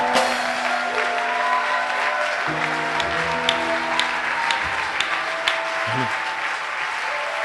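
A church congregation claps in praise, a full room of hands beating steadily, with a sustained organ or keyboard chord ringing beneath and a few sharper claps standing out near the end.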